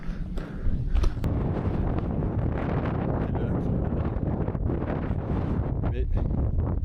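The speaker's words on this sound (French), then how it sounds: "Je sais pas d'où il vient le vent." Wind blowing across a mountainside near a lake, buffeting the microphone in a loud, steady broadband rumble that fills the whole stretch with slight gusty swells.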